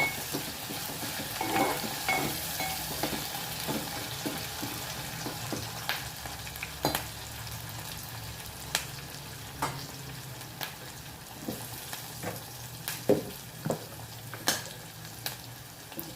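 Food frying in ghee in a pan, a steady soft sizzle with occasional stirring scrapes and light utensil taps, fairly quiet and close throughout.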